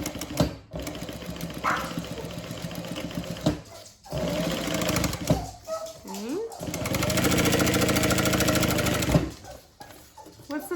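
A sewing machine stitches a quarter inch seam on a zip bag in repeated whirring runs, the longest near the end, close and steady, with a voice speaking and a dog whining between runs.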